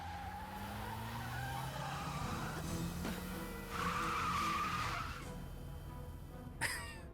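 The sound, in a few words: sports car skidding past, from video game Broken Sword 3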